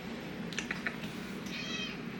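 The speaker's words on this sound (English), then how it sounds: "Let me see if I can get my cat in here for the outro." A pet cat gives a few soft, brief meows over a constant background hum indoors. The meows are faint and close, and a slightly longer one comes near the end.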